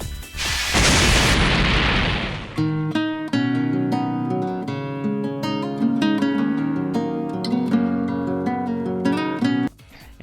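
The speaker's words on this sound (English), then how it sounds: "the blue E10000 series robot explodes in a big burst of fire and is revealed to be Metal Sonic" A robot explodes in a big burst of fire in the Sonic Free Riders video game: a loud, roaring blast lasting about two seconds, then a dense run of game music and effects carrying on until near the end.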